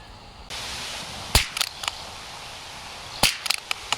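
Two sharp, close reports from a rifle firing Federal American Eagle suppressor ammunition, subsonic 45-grain rounds, about two seconds apart, each followed by quick echoing clatter over a steady outdoor hiss.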